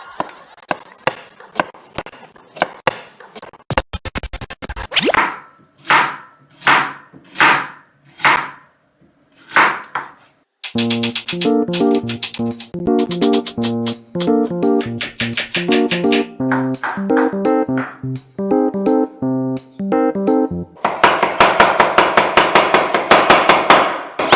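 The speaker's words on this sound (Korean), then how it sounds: "이영복의 칼질 소리가 아니라 이창호의 칼질 소리였어요" A Chinese cleaver chops food on a board, first in separate heavy strokes, then in fast rapid rhythmic bursts, loud and close, with no talking.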